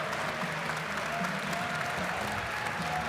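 Steady applause from a large convention audience at MagicCon Las Vegas, greeting the president of Wizards of the Coast as he takes the stage; dense, sustained clapping throughout with no break.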